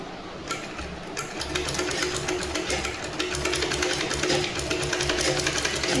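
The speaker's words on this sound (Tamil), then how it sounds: "குண்டூசி போட்ட பிறகு இதை நம்ம ஸ்டிச் பண்ணிக்கலாம்." A sewing machine stitches a full skirt in a rapid, steady mechanical chatter of needle strokes that starts after a brief pause and carries on evenly at close range, with no talking.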